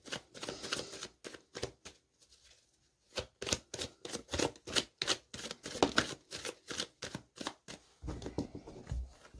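Tarot cards being shuffled and drawn, a close run of sharp riffling bursts in quick rhythmic succession with a brief pause near the start, no talking.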